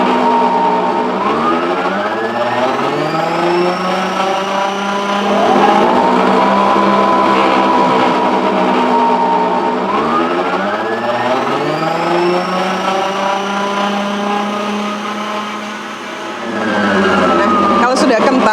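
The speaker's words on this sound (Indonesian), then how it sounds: "Kita gunakan mixer Mito MX 700." A Mito MX 700 electric hand mixer whisks cake batter with vanilla, its motor whine sweeping up and down in pitch as the speed changes. The whirring is steady, close and loud, with one brief dip near the end.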